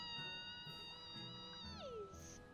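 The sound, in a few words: cats meowing in video game Tales of Berseria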